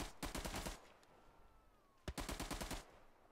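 Rapid automatic gunfire in the World War II tactical shooter Hell Let Loose, set in the Hürtgen Forest, comes in two loud bursts of quick cracking shots separated by a quieter pause.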